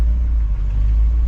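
The engine of a 1959 Chevy Bel Air runs, a loud, close, steady low rumble heard alone for a brief moment.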